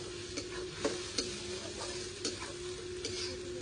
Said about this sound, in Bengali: পেঁয়াজ আদা রসুনটা বেটে রেখেছিলাম সেই বাটাটা বেশ ভালো করে পেঁয়াজ রসুনটা কষাতে হবে